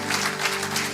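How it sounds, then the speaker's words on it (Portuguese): Congregation applauding during an evening church service, a steady diffuse patter of many hands over a low sustained hum, moderately loud and continuous for the whole second. "Aplauda ao Senhor."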